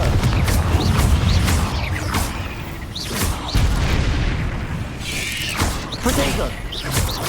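Confringo fire-spell blasts go off in a cave in Hogwarts Legacy as a series of booming, crackling bursts every second or so. They sit over a constant roaring, rumbling ambience.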